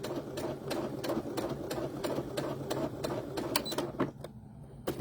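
Sewing machine backstitching along the edge of a fabric book page marker and pen holder, a steady rapid mechanical stitching rattle with regular needle clicks, close and fairly quiet, easing off near the end.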